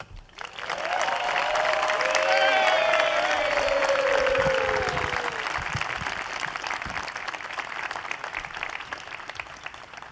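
An audience breaks into sustained applause to welcome Paralympian Paul Schulte at a White House event for the 2024 U.S. Olympic and Paralympic teams, a dense wash of clapping with a brief whistle-like tone riding over it early, then tapering slightly.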